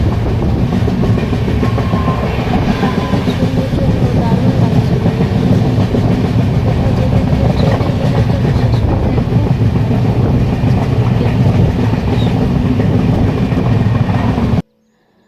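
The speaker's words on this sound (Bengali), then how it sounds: "এই যে যাচ্ছি আমরা ট্রেনে এখন" A passenger train runs along at speed, heard from inside the carriage as a loud, unbroken roar and rattle with rhythmic wheel clatter that cuts off abruptly near the end.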